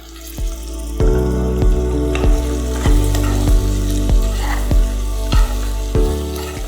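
Coriander-cumin powder fries in hot oil for a tindola pulao, a close, steady sizzle broken by regular scraping strokes of a spoon stirring the pan.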